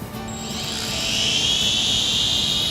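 An X5-C quadcopter drone lifts off outdoors and climbs, its rotors rising into a steady, close, high-pitched whine that grows louder and then holds level, with no talk.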